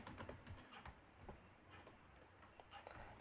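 Code is typed on a computer keyboard in a string of quick, light keystrokes, steady clicking close by at low volume with no voices.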